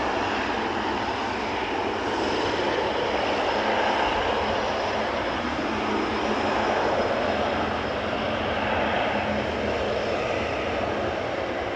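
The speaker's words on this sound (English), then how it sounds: "KLM Flight 592, which is coming home from Johannesburg, South Africa," A KLM Boeing 777-300ER arriving at Amsterdam Schiphol from Johannesburg produces a steady, distant-sounding jet engine drone with a low rumble and a soft high whine, holding even throughout.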